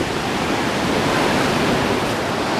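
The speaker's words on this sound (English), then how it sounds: "And we're at the beach." Waves break on a Pacific Ocean beach, a steady broadband surf wash that rolls on at an even, fairly loud level with no voices.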